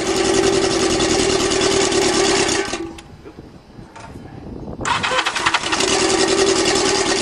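A motorcycle-powered dune buggy engine runs with a loud, buzzy, tinny drone, cuts out briefly amid cranking rattles, then catches again and settles back into a steady idle close by.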